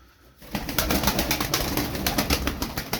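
Pigeons cooing and fluttering in a loft of Turkish tumbler play pigeons, a dense, close burst of soft coos and wing rustles starting abruptly and continuing throughout.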